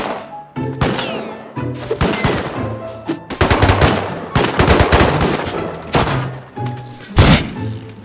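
Gunfire in the video game Rust rings out in loud, dense bursts of rapid shots and thumps, with brief pauses between volleys, close and uninterrupted by talk.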